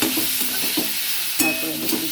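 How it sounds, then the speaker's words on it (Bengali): Onions frying in spice paste with turmeric for a low-oil egg curry, a loud, dense sizzle close by, with a few scraping stirs of the spatula breaking through, no voices. "সেই জন্য একটু পেঁয়াজটা ভেজে নিই।"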